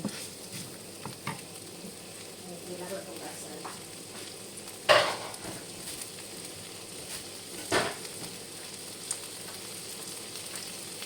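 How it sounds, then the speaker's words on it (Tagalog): Anchovies (dilis) frying in a pan give a quiet, steady sizzle, broken by a couple of louder sputters and clinks as they are moved around. "Nag-fried ako ng dilis, guys."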